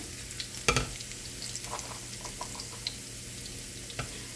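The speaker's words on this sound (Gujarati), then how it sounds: "બ્રાઉન કલરનું થાય ત્યાં સુધી આપણે એને સાતરવાનું છે લસણને." Garlic sautés in a hot pan until brown while being stirred for an Indian apple curry. A steady close sizzle runs throughout, with one sharp clank of utensil on pan early on and a few lighter scraping taps after it.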